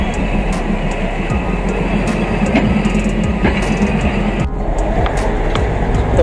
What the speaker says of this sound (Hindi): तो भाई साहब ये है इधर की थाईलैंड की ट्रेन।